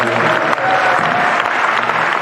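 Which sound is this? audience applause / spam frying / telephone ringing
audience applause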